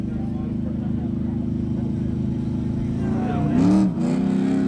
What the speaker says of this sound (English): White Firebird taking on the Orange Challenger tuned by OSTDino.com